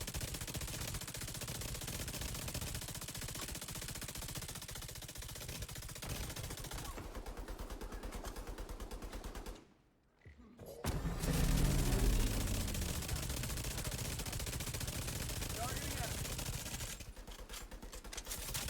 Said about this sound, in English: I hate shooting the mini tanks, even though it's pulsed.